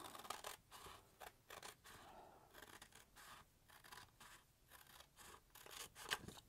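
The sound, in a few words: scissors cutting paper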